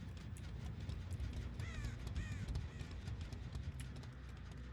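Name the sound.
crow cawing in a video game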